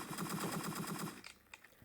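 Rapid automatic gunfire in the game Entry Point, a fast even stream of shots running for over a second at moderate loudness, then stopping and leaving a few scattered sharper clicks and thuds.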